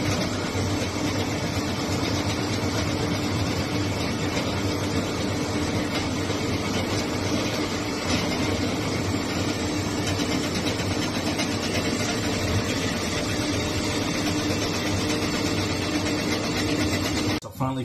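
A Ryobi P4002 drain auger motor runs steadily in reverse while its cable is drawn out of a clogged line, a constant mechanical drone that holds for the full length before cutting off abruptly at the end.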